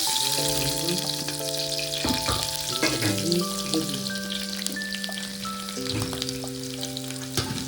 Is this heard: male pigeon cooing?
no